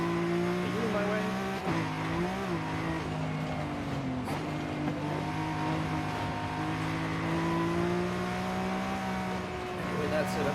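A rally car races in Forza Horizon, its engine droning steadily and loudly with pitch rising and dipping through shifts, and a few tire squeals throughout.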